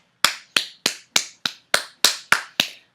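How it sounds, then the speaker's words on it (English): Nine sharp, evenly spaced claps ring out close and crisp in a slow, deliberate rhythm, each one standing alone against silence. "That is a real applause for people that can cut food out and keep it that way"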